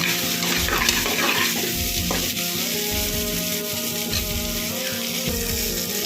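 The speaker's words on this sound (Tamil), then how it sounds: "நான் ஒரே ஒரு குட்டி தக்காளி எடுத்து கட் பண்ணி சேர்த்துருக்கேன் நல்லா வதக்கி விட்டுக்கலாம்" Small chopped tomato sautéed in a pan makes a loud, continuous frying hiss with busy stirring and scraping throughout, no voices.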